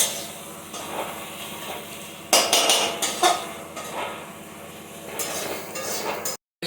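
Masala for litti chokha stir-fried in a pot, with a faint sizzle underneath and repeated scraping, clanking knocks of a spoon against the metal pot in irregular bursts, ending in a brief silence.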